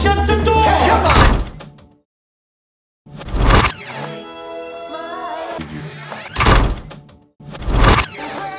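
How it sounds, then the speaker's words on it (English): Door shutting with solid thunks in a scene from a TV drama, several separate knocks and bangs spaced across the clip with silent gaps between them. "hey, shut the door!"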